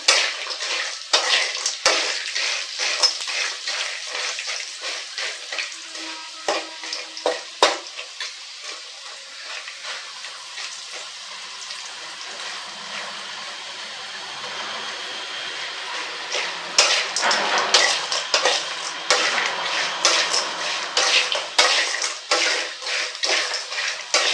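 Jackfruit seeds frying in a pan, with a continuous crackling sizzle and repeated scraping, clattering stirs of a utensil against the metal. The stirring bursts are louder near the start and again toward the end.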